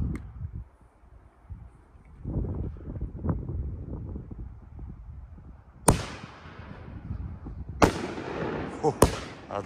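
Low rumbling crackle with several sharp bursts toward the end: an American Shadow 500-gram fireworks cake starting to fire with loud pops outdoors.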